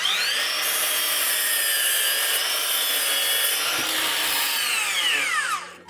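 A DeWalt 60V cordless 12-inch sliding miter saw cuts through lumber, its loud high-pitched blade whine steady through the cut before the motor spins down at the end, close up with no talking.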